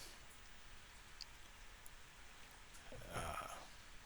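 Soft, steady rainfall by a river in the farming game Stardew Valley, a quiet continuous patter with a brief brighter splash near the end and no speech.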